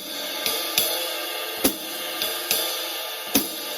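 Drum kit playing a swing pattern, ride cymbal in a triplet feel with hi-hats landing on beats two and four, a steady set of crisp metallic strikes, close and alone.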